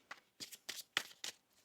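Tarot cards are shuffled in a quick series of about six crisp riffling bursts, close and fairly soft, with short pauses between them and no speech.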